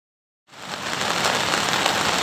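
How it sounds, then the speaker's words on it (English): Heavy rain pours down steadily in the Upper Pitt River valley, a dense continuous hiss that swells in after a moment of silence and stays loud throughout. "It continued to rain hard."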